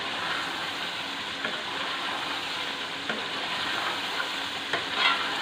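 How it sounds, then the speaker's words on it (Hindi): Chicken koftas fry in a thick masala gravy, giving a steady soft sizzle with occasional scraping stirs and small pops over the simmer. "इसे हम तकरीबन 5 मिनट तक कोफ्तों को मसाले में डालकर भूनेंगे"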